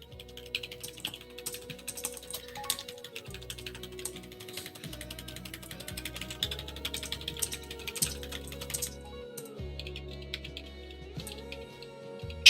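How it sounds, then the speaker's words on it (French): Rapid, continuous clicking of keyboard keys, close and busy, over a low steady background hum. "t'étais en train de massacrer ton clavier."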